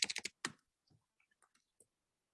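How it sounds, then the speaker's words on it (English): Fingers type on a computer keyboard, starting with a quick burst of four or five loud clacks, then a sparse run of fainter taps and clicks in a quiet room. "So I'll just type in our office."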